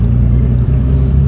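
Deep, steady low rumble of a 1985 Porsche 911 G-model with bigger turbos, bigger intercooler and bullet exhaust, idling close by in a short unbroken burst.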